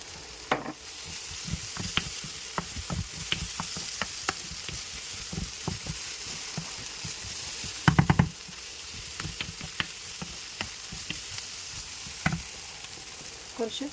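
Chicken curry frying in a pan with turmeric powder being stirred in, giving a steady close sizzle with scattered spoon scrapes and clicks and a brief louder clatter of stirring partway through.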